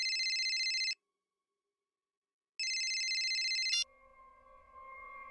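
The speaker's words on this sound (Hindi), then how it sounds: "अब इस वक्त किसका फोन आ गया?" A telephone ringtone plays in two loud electronic bursts separated by a pause, then cuts off and gives way to a quieter steady tone.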